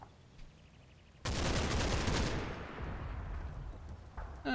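Machine gun fire in the wartime video game Combat Mission: Battle for Normandy: after a quiet start, a loud sustained burst of rapid automatic shots rings out and then tapers into a fading rumble, with another burst beginning at the end.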